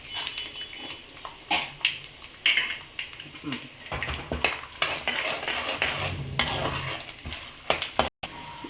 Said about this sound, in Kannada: ಈಗ ಕಡಲೆಬೇಳೆ ಹಾಕ್ಕೊಡ್ತೀನಿ.